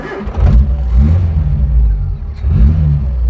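A South African Ford Escort Mk2 1600 Sport revs its engine loudly on the road, rising in two deep throaty surges with a rumbling exhaust note close by.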